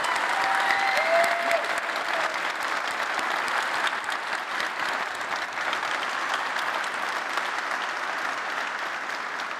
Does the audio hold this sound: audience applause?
yes